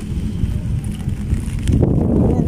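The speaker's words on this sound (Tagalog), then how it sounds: "Malakas ang hangin." Strong outdoor wind buffets the microphone with a steady, loud rumble and roar that grows gustier toward the end, with no talking.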